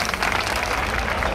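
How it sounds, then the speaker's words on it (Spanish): Loud, dense applause from the crowd at a rock festival in Ripollet, Spain, a brief continuous burst of clapping and cheering close up. "Así que quiero que la recibáis con un fortísimo aplauso."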